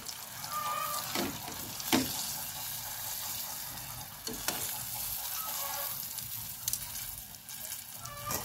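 Chicken necks and eggplant fry in a hot pan with a steady, even sizzle, broken now and then by a few louder clinks and scrapes of a utensil against the pan.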